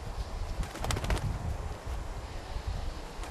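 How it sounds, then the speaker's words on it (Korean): A flock of Himalayan griffon vultures squabbles noisily over a carcass in the Pamir highlands: faint, distant calls and brief bursts rise over a steady wind-like rumble. "소란스럽게 다투며 먹이를 해치운다."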